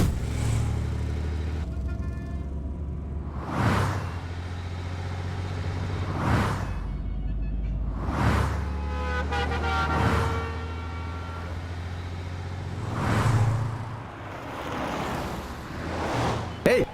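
A car drives and turns in a South Indian action film dubbed in Hindi, a steady low engine rumble broken by repeated loud whooshing swells every few seconds.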